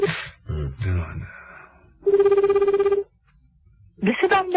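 Telephone ringing with no answer during a call challenge, one steady electronic ring burst lasting about a second, set between stretches of people talking on both sides.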